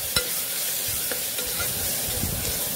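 Ginger garlic paste sautés in a pan for mutton curry, giving a steady sizzle and hiss broken by several sharp spatula scrapes and stirring knocks, close and clear with no talking.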